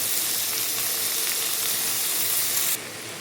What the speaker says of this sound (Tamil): வெங்காயம் சேர்த்து நல்லா வதக்கி எடுத்துக்கலாம். நம்மளோட வெங்காயம் வதங்கினதுக்கப்புறம் தக்காளி சேர்த்துக்கலாம்.